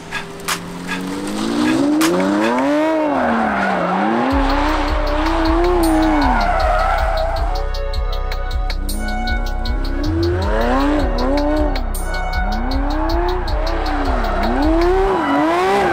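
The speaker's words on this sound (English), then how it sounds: "start doing donuts in a car park" A car doing donuts in a car park gives off long, wailing tyre squeals and skids over a loud, cycling engine that revs up and down, close by and continuous with no voices.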